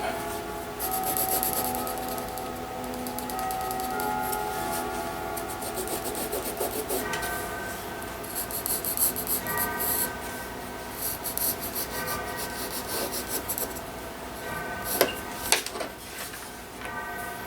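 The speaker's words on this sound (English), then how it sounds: "pencil doesn't mark that well on leather, so I have to go over it several times here" Pencil tracing a pattern onto leather for a custom knife sheath, repeated scratchy rubbing strokes going over the same lines, close and fairly quiet, with light ticks and taps between passes.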